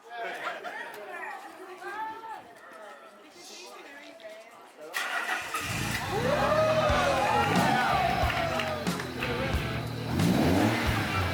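Nissan 300ZX Z32 project car engine starts partway through and revs, loud and close, while a small crowd chatters and exclaims over it.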